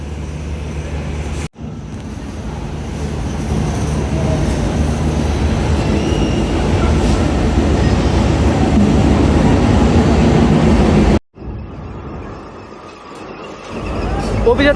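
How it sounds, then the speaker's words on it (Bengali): The Jaydebpur Commuter 4 train rolls into platform 8 at Dhaka's Kamalapur station with a heavy, steady rumble that builds and holds, briefly drops away, then swells again close by amid station noise. "ঢাকাগামী জয়দেবপুর কমিউটার 4 ট্রেনটি এখন শহরতলির 8 নং প্ল্যাটফর্মে প্রবেশ করছে"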